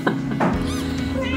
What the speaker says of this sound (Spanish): vamos a ver a unos gatitos recién nacidos